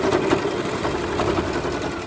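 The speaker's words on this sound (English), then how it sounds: "When you come up to the fold, I do a little back stitching so that it just gives it a little more strength there." A sewing machine back stitches a fabric face mask at the fold with a close, steady mechanical hum and rapid needle chatter.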